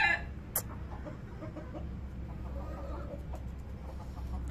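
A broody hen clucks a few times amid steady low farmyard rumble, with a brief sharp call near the start.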